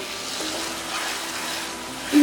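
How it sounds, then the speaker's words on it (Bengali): Hog plum pickle sizzles steadily in oil in a pot as it is stirred, a soft continuous frying hiss close by. "এখন আমি আচারটাকে আরও নাড়াচাড়া করে একেবারে"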